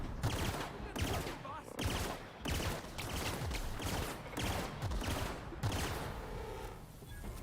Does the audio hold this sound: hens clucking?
no